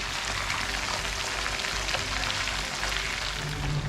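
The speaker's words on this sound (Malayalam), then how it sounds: "ഇപ്പോൾ ഫ്രൈ ആയിക്കൊണ്ടിരിക്കുന്നു" Fish for a Kerala-style fish molly frying in hot oil, giving a steady dense sizzle that stays at an even level throughout, close and without talk.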